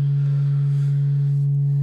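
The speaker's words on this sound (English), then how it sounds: "there's this sine output, which looks pretty typical of a sine wave" A Serge NTO synthesizer module's sine output plays a steady, sustained low tone with a few faint upper harmonics, loud and unbroken from start to finish.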